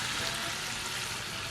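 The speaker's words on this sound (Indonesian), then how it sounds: "kita goreng dulu tahu." Tofu frying in hot oil in a home kitchen, a steady, close, bright crackling sizzle that continues evenly throughout, with no talk over it.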